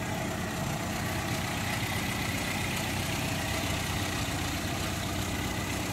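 A 1980 Datsun 120Y engine idles at a steady, even hum, close and continuous, with no one talking.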